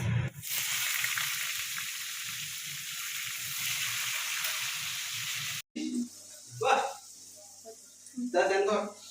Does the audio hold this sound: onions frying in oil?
yes